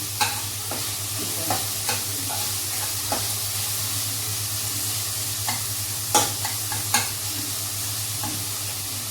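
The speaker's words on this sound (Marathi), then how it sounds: "हा पण फ्राय होतो याच्यामध्ये कांद्याबरोबर, मिरचीबरोबर, टमाट्याबरोबर हे सगळ्या मसाल्यामध्ये" Potato pieces fry with onion, chili and tomato in a spiced masala, giving a steady close sizzle broken by sharp spoon scrapes and clicks against the pan every second or so.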